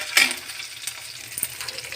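Green chillies fry in a pan while being stirred, a steady close sizzle with a few brief scraping strokes of a utensil against the pan, alone and without talk.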